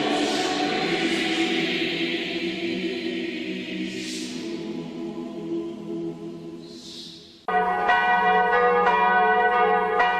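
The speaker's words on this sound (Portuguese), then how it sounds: "Os sinos da basílica tocam, chamando as pessoas para as orações da noite." Basilica bells ring out over La Salette at dusk, a sustained, resonant peal with a broad wash of overtones, growing brighter and fuller toward the end.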